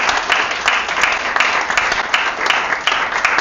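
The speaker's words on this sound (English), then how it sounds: "Here's a very fragrant applause for you" Steady audience applause at a live-streamed talk event, dense and continuous clapping filling the whole moment with no voices over it.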